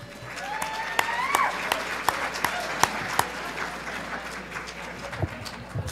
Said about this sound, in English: Can I get another big round of applause for Mr.